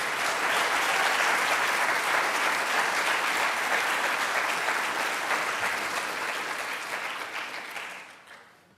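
Sustained applause from a large audience at a medical resident and fellow graduation ceremony, loud and steady throughout before tapering off at the very end.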